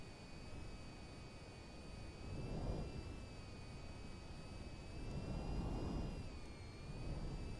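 A VTOL aircraft in the VTOL VR video game descends toward a helipad, giving a steady jet-engine whine with high tonal lines over a broad rushing roar that swells twice, moderately loud and without speech.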